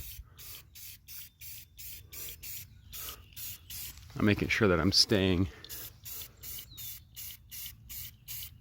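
Short bursts of gray primer from a spray can hiss in a steady rhythm outdoors, with a person speaking briefly in the middle.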